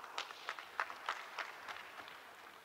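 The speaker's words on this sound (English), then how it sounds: "Please give him a round of applause." A short burst of audience applause at a Rotary district conference, scattered hand claps rising and thinning out over a couple of seconds, fairly faint and distant with no talk.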